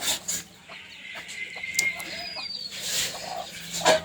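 A desi hen in a village poultry yard clucks in short, scattered calls close by, with faint bird chirps and rustling around her.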